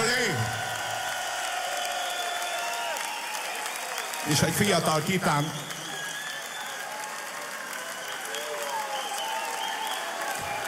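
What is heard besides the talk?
audience applause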